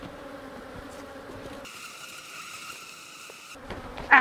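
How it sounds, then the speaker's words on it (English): Honeybees buzz around a beekeeper at an open hive, a dense, continuous hum close to the ear, swelling into a brighter, louder drone for a couple of seconds before settling back. "All these crazy bees on me."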